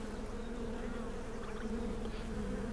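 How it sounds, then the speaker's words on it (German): A dense, steady drone of buzzing bees from Super Mario Party Jamboree, taken from Pikmin 3, fills the whole stretch at a constant level with no talk. "Sind ja bloß ein paar friedliche Bienchen."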